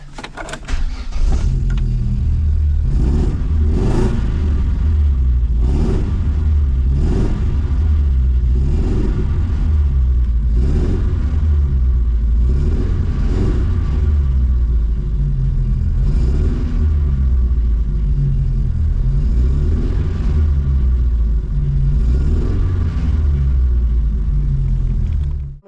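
A Vauxhall Nova 1.6 injection engine runs with a persistent misfire, its steady low rumble broken by rhythmic stumbling pulses every second or so, loud and close with no talking.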